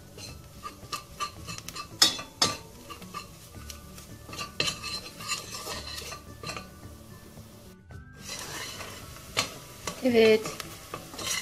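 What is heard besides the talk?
stirring flour and onions in oil in a pot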